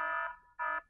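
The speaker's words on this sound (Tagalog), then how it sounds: "alarm," A stock alarm sound effect from a video editing app's effects library gives two loud, steady electronic buzzer tones with a short gap between them, harsh and close, with no other sound.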